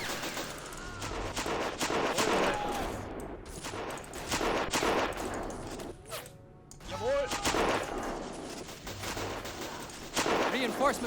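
Bursts of German machine gun fire with distant battlefield gunfire and explosions in the World War I strategy game Battle of Empires 1914-1918, continuous and dense, with a voice talking intermittently over it.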